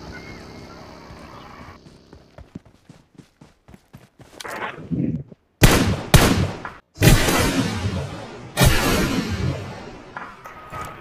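Gunfire in the mobile battle royale game BGMI: a few sharp, loud shots with echoing tails, preceded by soft footstep-like taps, spaced irregularly over the last half.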